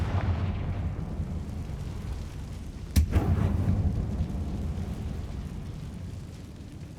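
A Confringo blasting spell from Hogwarts Legacy goes off as a single sharp explosive boom, followed by a brief rumbling decay over a steady low background.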